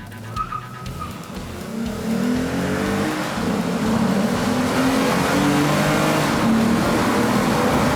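A 2015 Lexus RC 350 F Sport builds steady, loud engine revving close by, a sustained roar with rising tone and some tire noise, heard alone without talk.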